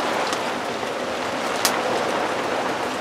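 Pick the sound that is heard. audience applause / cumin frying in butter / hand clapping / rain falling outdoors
rain falling outdoors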